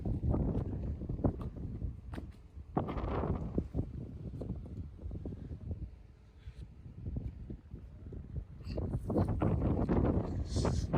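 Gusty wind buffets the microphone in rumbling bursts that rise and fall, loudest near the start and end, with no talking.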